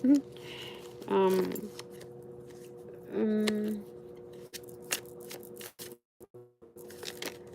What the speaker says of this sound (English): I am going to shuffle the cards once more.